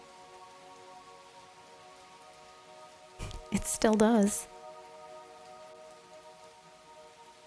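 Soft rain taps steadily against window glass, a low continuous patter underneath a short burst of nearby speech.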